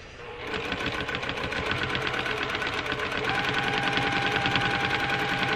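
A domestic sewing machine stitches rapidly and steadily while fabric is guided through free-motion quilting, a close, continuous mechanical whir that starts up and holds at full speed.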